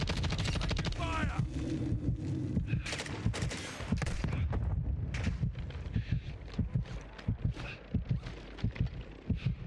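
Gunfire in Black Ops 6, rapid machine-gun bursts and single shots cracking repeatedly across the whole stretch, loud and close, with a growing run of sharp, evenly spaced reports toward the end.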